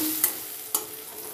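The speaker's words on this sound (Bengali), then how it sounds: "খুব ভালো করে মিশিয়ে নেব" Spices with turmeric and Kashmiri chilli stirred in a pan, two short scraping strokes over a soft steady sizzle, close and alone.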